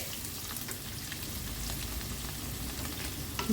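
Paneer cubes frying in a pan for paneer fried rice, a steady soft sizzle running throughout at low level, with faint scattered crackles and no talk.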